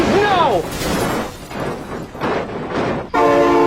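A train horn blares in the BeamNG.drive video game as a train passes and crashes, with loud rumbling and impact noise, a second horn blast at the end, and excited voices over it.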